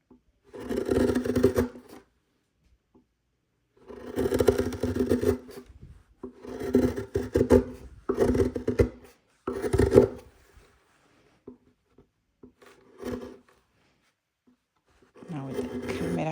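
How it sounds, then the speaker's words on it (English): A flat chisel shaves a violin upper nut in bursts of dry scraping and rasping strokes, close and fairly loud, separated by short silences. "Now I like to use flat chisel."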